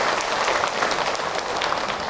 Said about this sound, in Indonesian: Tepuk tangan atuh buat bunda.